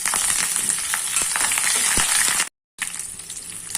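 Prawns and curry leaves sizzle loudly in hot oil for a gongura prawn pickle, a dense crackling hiss with small pops, broken by a brief silent gap before the frying resumes.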